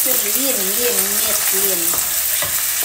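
Beef sizzles in olive oil in a pan for caldereta, a loud, constant frying hiss, while someone talks over it.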